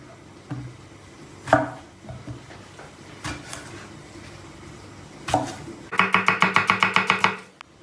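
A few separate knife strikes on a cutting board, then a quick rhythmic run of about a dozen chops slicing potatoes into wedges, close and clear.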